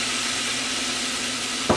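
Chicken chow mein with soy and oyster sauce sizzles steadily in a hot pan as it is stirred. A short scraping knock comes at the end.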